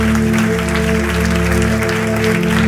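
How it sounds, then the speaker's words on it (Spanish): A church congregation applauds in praise of the King after a prayer, continuous clapping blended with steady sustained music tones filling the room. "Demos un fuerte aplauso al Rey."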